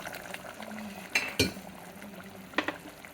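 A little water goes into a pan of simmering paya curry, giving soft liquid pours and a few sharp clinks of a vessel against the pan over a quiet kitchen background.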